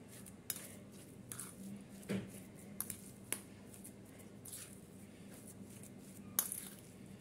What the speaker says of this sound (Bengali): এখন আমি ভালো করে মিক্স করে নেব সব।